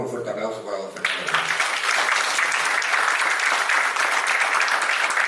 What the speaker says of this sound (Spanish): Por favor, un fuerte aplauso para don Fernando.